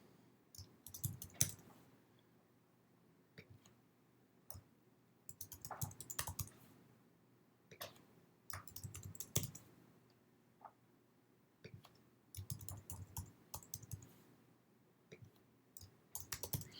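Keyboard typing while answer options are entered into a multiple-choice survey form, heard as bursts of quick, close clicking keystrokes separated by short pauses, with no talking.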